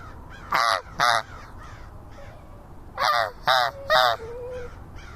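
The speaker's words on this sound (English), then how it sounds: "Look at all them crows." Crows caw loudly in short harsh bursts, two calls, a pause, then three more, over faint outdoor background noise.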